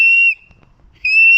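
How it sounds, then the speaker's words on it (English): A toy steam engine whistle from a Trackmaster Thomas & Friends train sounds two clear, shrill blasts, each about a third of a second long, separated by a short quiet gap, loud and close. "When they heard a whistle"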